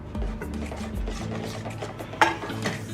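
A spoon stirs a crushed pistachio mixture in a metal vessel for pistachio barfi, with soft repeated scraping and light clinks in an uneven rhythm and one sharper knock near the end.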